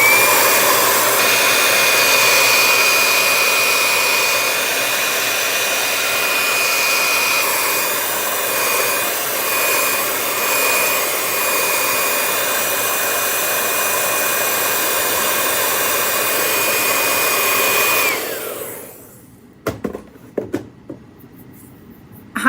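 A dryer blows loudly and steadily on a painted piece for about eighteen seconds, then cuts off abruptly, leaving near silence broken by a few faint knocks.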